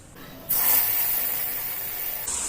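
Mushrooms dropped into hot oil for a street-style mushroom masala, setting off a sudden steady sizzle that holds throughout, close and moderately loud.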